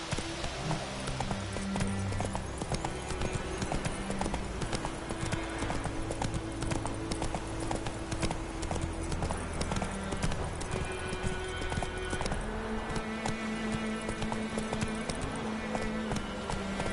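Roach the horse gallops in The Witcher 3 with rapid rhythmic hoofbeats that run continuously throughout, layered over game music and ambience and a few faint game sounds.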